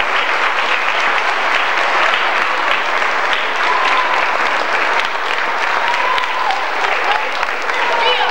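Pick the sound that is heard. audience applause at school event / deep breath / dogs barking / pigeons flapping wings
audience applause at school event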